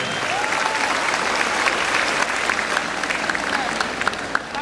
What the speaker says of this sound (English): let us give a round of applause to our 8th Summa Cum Laude